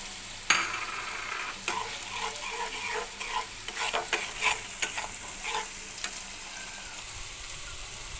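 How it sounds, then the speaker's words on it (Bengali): Spice paste with salt, turmeric and chili powder is stir-fried for bele fish bhuna. A soft sizzle runs under repeated scraping stirs and clinks of a spoon against the pan, heard up close. "দেখুন, আমার মশলাটাকে আমি সুন্দর করে কষিয়ে নিয়েছি।"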